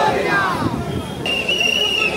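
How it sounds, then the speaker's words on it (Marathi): Crowd of devotees at a Ganesh arrival procession, a dense murmur of many voices with a whistle-like tone rising and then holding steady, steady and fairly loud throughout. "किती क्राऊड आहे, किती भक्तजनांची गर्दी आहे बघा"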